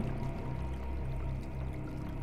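Water pouring inside a house in the horror video game It Happened at Night; a steady, soft splashing stream runs continuously at moderate loudness, alone without voices.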